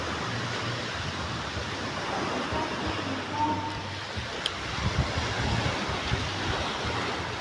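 Sea waves wash onto the shore in a steady broadband rush, mixed with wind buffeting the microphone, continuous and fairly loud with a few faint knocks near the end.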